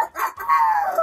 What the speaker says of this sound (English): Please welcome Rowdy Rooster.